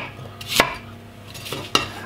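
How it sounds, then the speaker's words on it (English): A knife chops an apple into coarse pieces on a cutting board, with two or three distinct, sharp, close thuds and faint clatter between them, and no voices. "I'm cutting the apple relatively coarsely"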